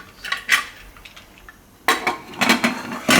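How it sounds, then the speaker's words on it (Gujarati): A pressure cooker lid is fitted and closed on a gas stove, with close metallic clanks and scrapes in two bursts separated by a short quiet gap and no talking. "અને કુકરનું ઢાંકણું બંધ કરી દઉં."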